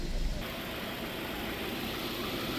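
A 2018 Subaru Impreza engine, just serviced for dirty injectors and a P0171 fault, idles smoothly with a steady, even hum throughout, loud and close, with no voices.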